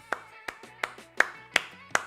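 Six sharp hand claps in a slow, steady rhythm, close and fairly loud, with a faint voice in the background.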